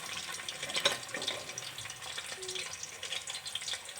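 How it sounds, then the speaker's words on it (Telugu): Boiled eggs frying in a pan make a faint, steady sizzle with light watery crackles, quiet and even throughout. "ఎగ్స్ బాయిల్ ఫ్రై అయిపోయి ఫ్రెండ్స్"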